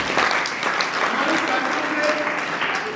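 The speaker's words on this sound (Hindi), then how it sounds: "मैं चाहूंगा एक बार जोर से तालियां बजाएं" A crowd of scouts and guests at a felicitation ceremony bursts into applause for their local scout in-charge, a full, continuous round of clapping that stays loud and even throughout.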